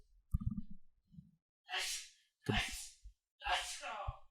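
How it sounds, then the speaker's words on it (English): A single sharp sneeze bursts out after a few soft breaths and sniffs, with quieter breathy exhalations following it. "Oh man, I'm gonna sneeze."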